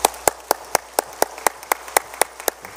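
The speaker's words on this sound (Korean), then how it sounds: "우리 뜨거운 박수로 환영하겠습니다" A congregation clapping in a church during a Sunday service to welcome a guest pastor, the claps landing in a steady, fairly even rhythm at moderate loudness, with no voices over them.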